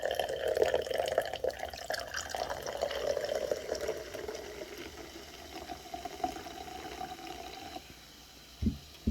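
Diet and Original Mountain Dew are poured into cups with a steady fizzing, splashing stream that fades, followed by a couple of soft knocks at the end.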